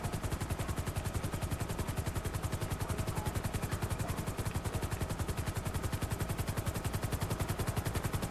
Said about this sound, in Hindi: मैंने रात को कभी मैंने हेलीकॉप्टर में राइड नहीं लिए,